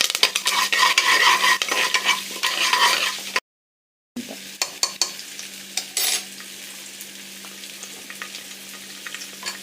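Lentils, peanuts and curry leaves sauté in a pan for tamarind rice, a steady close sizzle with repeated spoon stirs and scrapes, broken by a brief silent gap before the frying and clinks resume.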